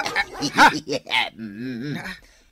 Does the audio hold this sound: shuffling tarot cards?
no